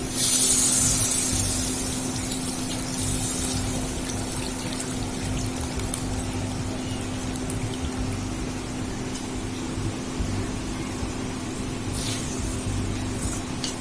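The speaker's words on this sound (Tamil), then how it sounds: "ஒரு பெரிய நெல்லிக்காய் அளவு புளி, கருப்பு புளி எடுத்து கரைச்சி வச்சிருக்கேன். அதை இப்ப நம்ம இதுல சேர்த்துக்கணும்." Dissolved black tamarind water is poured into a simmering spicy shallot kuzhambu, giving a steady liquid pour and trickle over a constant low hum, louder at the start and fading slightly, with no talking.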